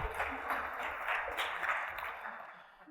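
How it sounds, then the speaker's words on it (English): Audience applause at a tech conference talk, a faint, steady wash of many hands clapping from a distance that lasts about three seconds and then fades. "Everybody, give him a round of applause."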